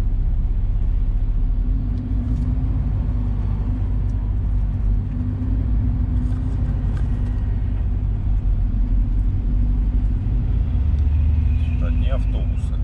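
A car drives on a Surgut road in September at about 12 degrees, with a steady loud engine drone and tyre rumble close up inside the cabin, unbroken throughout.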